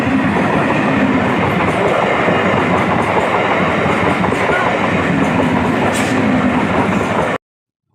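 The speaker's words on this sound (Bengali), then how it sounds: "তো আমার পিজিতে ফেরার সময় তো একটা রেলগেট পরে ট্রেন আসছে।" A Sealdah–Hasnabad local train rumbles past a railway level crossing close by, a loud, steady roar with rhythmic wheel clatter that cuts off abruptly near the end.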